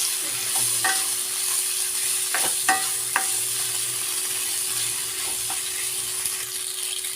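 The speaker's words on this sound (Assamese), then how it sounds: "এতিয়া ইয়াত মই মেক্ৰণিখিনি দি দিম, আৰু খুব ভালদৰে মই লৰাই ল'ম।" Macaroni is stirred through melted tomatoes in a hot pan: a steady sizzle under a handful of scraping and clinking spoon strokes clustered early on, close and without speech.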